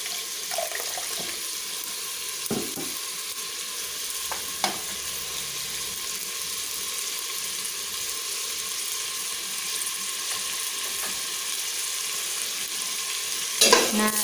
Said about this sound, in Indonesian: kita aduk biar agak mengeluarkan bau harum